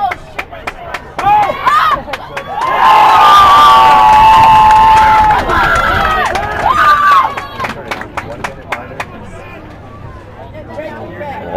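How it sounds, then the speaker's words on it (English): Spectators at a university quidditch match shout and cheer loudly in a burst lasting several seconds, with a shrill whistle-like yell inside it, then scattered claps and voices close by as the noise dies down. "Lost Boys behind us cheering on."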